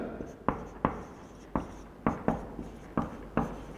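Pen strokes scratching out a chemistry equation on a board or paper, a string of short distinct taps and scrapes in an irregular rhythm, close and fairly quiet, with no talking.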